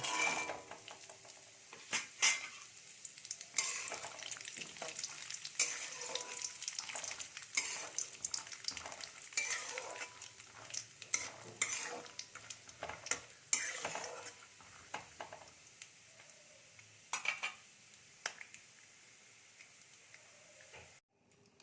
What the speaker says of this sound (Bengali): এখানে আমি নিয়ে নিয়েছি চীনা বাদাম চীনা বাদামটা আগে ভেজে নেব